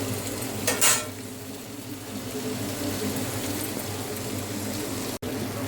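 Home-made chicken fry sizzling steadily in a pan, a constant close crackle and hiss running through the whole stretch, with a brief stir or scrape near the start.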